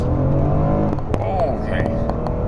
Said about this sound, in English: So I'm gonna slow down, get a little dig, and then punch it.